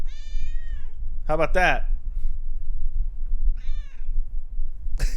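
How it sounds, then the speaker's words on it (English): Elmo the cat meows twice, a long drawn-out call followed later by a shorter one, close and clear, with someone speaking briefly between them. "Cat."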